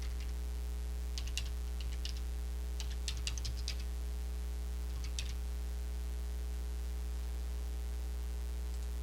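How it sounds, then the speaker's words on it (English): Typing on a computer keyboard comes in a few scattered bursts of quiet clicks over a steady electrical hum, then stops for the last few seconds. "maybe I'm typing in the wrong thing"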